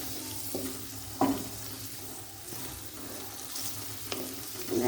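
Ginger fries in a pan for baingan bharta (eggplant dish), a soft continuous sizzle broken by a few light stirring clicks and scrapes, fairly quiet throughout.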